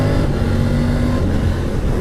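A Triumph Tiger 900 GT Pro motorcycle's triple engine runs loud and close with a steady droning roar, the pitch shifting slightly as it is ridden through gear changes.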